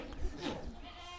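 Goats bleating in a pen before milking, a short nearby bleat with a faint murmur of other animals.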